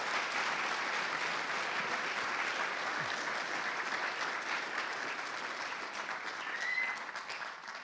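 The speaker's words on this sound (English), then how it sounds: "please, a round of applause to everyone who helped here" Sustained applause from a sizable conference audience, steady and dense clapping throughout, with no talking over it.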